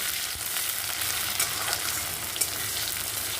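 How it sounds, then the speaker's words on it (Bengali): Spices for a Bengali pumpkin mash tempering in hot oil, with onion, give a steady close sizzle and crackle, a few sharper pops rising out of the dense frying hiss. "এবার ফোড়নটাকে সুন্দর করে ভেজে নেব"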